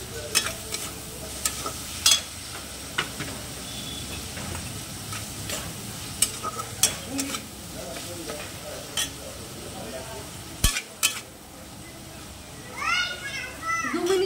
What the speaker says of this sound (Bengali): ভাজতে টাইম নেবে আর কি, মানে একটু ভাজা ভাজা হোক